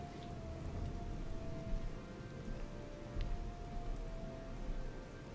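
Steady rain pours in the game Gothic 2 Night of the Raven, a dense even hiss of falling drops with a faint tonal hum underneath, continuous and without speech.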